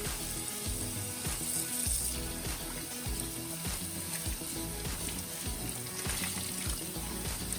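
Water runs and splashes steadily as salted vegetables are rinsed for kimchi, making a constant close hiss layered with irregular low clunks from handling, and no speech.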